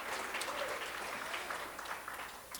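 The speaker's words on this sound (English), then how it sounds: "So yeah, let's give her a round of applause." Audience applause at a perinatal mental health conference, a steady, moderately faint wash of clapping that holds for a couple of seconds and tapers slightly toward the end.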